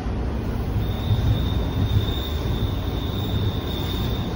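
A Toronto TTC subway train runs through Scarborough between Warden and Kennedy stations toward a tunnel portal, giving a loud, steady rumble of wheels on rail with a thin high squeal throughout.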